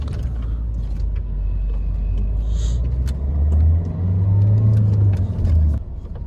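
A manual-transmission car pulls away in traffic with a steady low engine rumble that swells as it accelerates, then drops off near the end, with faint traffic noise around it.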